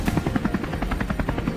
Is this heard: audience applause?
no